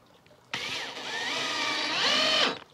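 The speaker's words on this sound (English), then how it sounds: "So four simple screws with washers, wood screws 1 to 2 inch." Power drill drives wood screws with washers into a whisky barrel, a single loud whirring run of about two seconds with rising pitch that cuts off sharply, close by.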